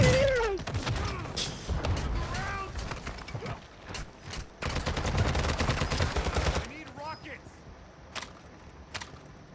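Bursts of gunfire in Call of Duty: Modern Warfare II come as sharp cracks and short automatic volleys, some dense stretches and some scattered shots, with players talking over the shooting.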